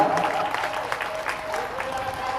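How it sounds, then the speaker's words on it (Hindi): An audience claps at a ceremony in a community gathering, a dense, continuous patter of applause filling the whole moment at moderate loudness. "हम सब लोग सम्मान ताली को बजाएं"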